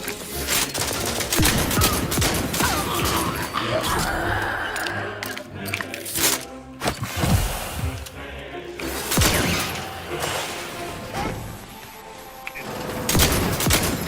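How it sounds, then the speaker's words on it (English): Dense gunfire and bursts of automatic weapons fire from the video game The Outer Worlds, loud and continuous across the whole stretch, with shattering and mechanical clatter mixed in. "let's not shoot my own guys again"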